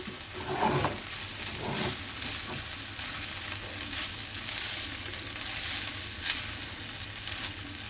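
Paneer fried rice with vegetables stir-frying in oil and ghee, a constant close sizzle under repeated scraping and tossing strokes of a spatula, no voices.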